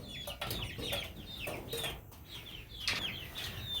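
Hens in a backyard coop cluck and chirp in short repeated bursts, several birds close by with occasional wing flutters, no talking.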